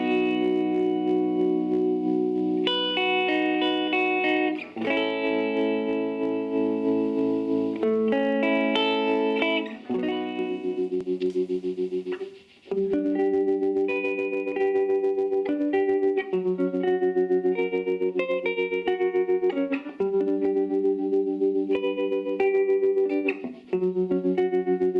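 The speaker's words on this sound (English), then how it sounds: "So let's try out the tremolo." Guitar played through the tremolo circuit of a Silvertone 1472 amplifier, set to low speed with intensity on 4, sustained chords pulsing gently in volume, with no talking over the playing.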